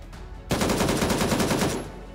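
Sustained automatic gunfire from a firearm in the military shooter game Gray Zone Warfare, a rapid, evenly spaced burst of about a dozen loud, close shots lasting over a second after a brief quiet lead-in.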